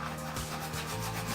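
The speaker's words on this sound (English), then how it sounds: "I'm gonna do a little scrubbing." A toilet is scrubbed with quick, close, rasping back-and-forth strokes that repeat rapidly and evenly throughout.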